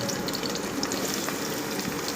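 Oil frying masala for a curry in a home kitchen, a steady close sizzle that continues without a break and with no voices over it.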